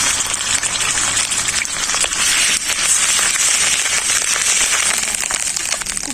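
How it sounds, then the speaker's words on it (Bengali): Onion paste sizzling in hot oil in a pan while making kudri masala, a dense, steady crackle and hiss that stays loud and even throughout with no talking. "ভালো করে পেঁয়াজ বাটাটা ভেজে নিয়েছি"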